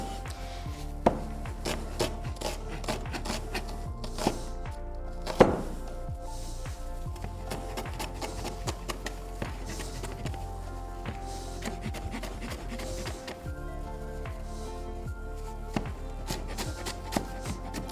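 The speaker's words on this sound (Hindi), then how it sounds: "हम अपनी अनियन कटिंग करेंगे।" A knife chops an onion into small cubes on a board in a kitchen, a steady series of light, close thunks with an occasional sharper knock.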